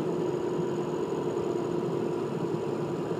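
A Ford 6.0 Powerstroke diesel truck engine runs at a light cruise, giving a steady, even low drone with a faint whine above it and no change in level across the short stretch.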